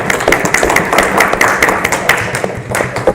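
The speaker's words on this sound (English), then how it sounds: "Can we just give another round of applause for our winners?" A room full of people at a board of trustees meeting clapping steadily, a dense patter of hand claps at close range with no voices over it.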